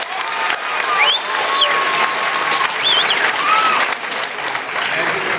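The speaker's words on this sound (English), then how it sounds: "And it's worth an applause" Loud applause from an audience honoring graduating high school seniors, continuous clapping with several whistles and cheers rising over it.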